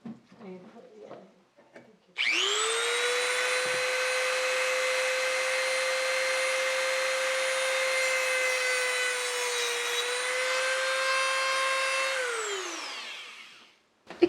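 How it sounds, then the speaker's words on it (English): A Dremel rotary tool starts abruptly and cuts a came strip on a stained glass box, a loud steady high whine lasting about ten seconds before spinning down, with brief sounds just before it starts. "I'm going to use my Dremel tool and just cut that off."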